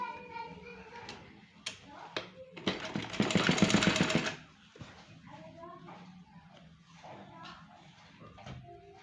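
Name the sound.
sewing machine stitching folded fabric of a boat neck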